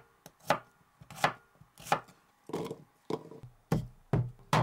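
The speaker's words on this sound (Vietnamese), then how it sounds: "Hành tím và tỏi thì mình cắt ra cho vô cối giã nhuyễn." Shallots and garlic are chopped with a knife on a board, about seven crisp, evenly spaced thuds close up, with quiet gaps between strokes.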